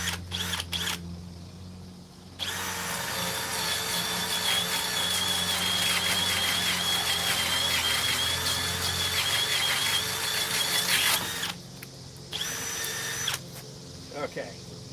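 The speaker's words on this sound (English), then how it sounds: "They could give me a hammer drill." A Harbor Freight Hercules cordless hammer drill with an 8-amp battery, set to speed 2, runs with a loud, steady whine for about nine seconds. Short bursts come before and after it, and people speak briefly around it.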